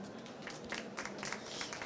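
An audience at an agricultural fair conference session claps for a panelist joining the stage, a soft, steady patter of many hands heard at a distance.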